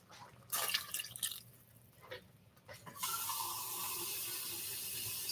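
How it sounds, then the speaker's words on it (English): Water is poured into a soup pot of bell pepper soup, a few splashes and trickles at first, then a steady close pour that continues to the end, with no talk. "I think I'm just gonna add water."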